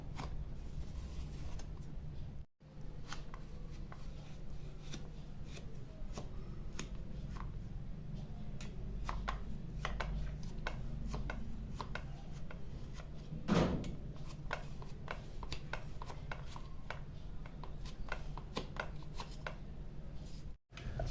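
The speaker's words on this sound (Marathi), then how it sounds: "ह्या कलथ्यानेच मी वड्या कापून घेते" Wheat and jaggery gulpapdi being cut into pieces with a spatula in a kitchen. Repeated soft scraping and tapping strokes run steadily throughout, close-up and quiet, with no talking.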